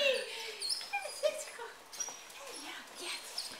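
A puppy whimpers and whines in short, high, wavering cries that come and go, fairly faint and close.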